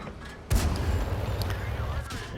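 A close, heavy tank cannon shot booms out from a tank battle game, followed by a rumbling tail. A commentator talks throughout.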